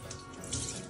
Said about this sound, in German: Das Millionending mit kaltem Wasser feucht machen